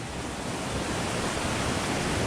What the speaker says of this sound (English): So all these creeks are coming together, I guess, to flow over Van Hook Falls.